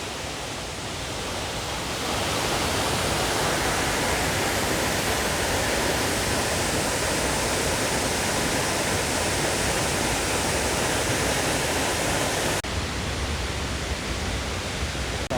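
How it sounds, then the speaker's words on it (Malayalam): Kappimala Waterfalls in Alakode, Kannur roar steadily as water crashes down and foams white, a dense, loud, unbroken rush heard close by with no voices. "വെള്ളം ഇങ്ങനെ നല്ല പാല് പോലെ പതഞ്ഞ് പോന്നു"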